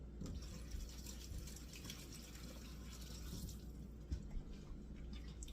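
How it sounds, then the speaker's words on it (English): Hands rinsed under a running kitchen tap while making slow cooker baked potatoes, a steady low wash of flowing water with a few brief splashes, faint and continuous. "Gotta rinse my hands again."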